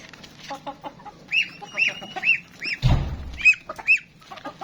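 Chickens in a backyard flock cluck and call repeatedly up close, with sharp rising squawks and a brief burst of rustling midway, no speech.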